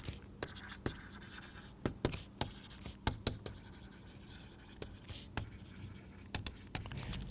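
Chalk or marker taps and scratches on a board as a Taylor series is written out, a quiet irregular run of short strokes and clicks in a calm room.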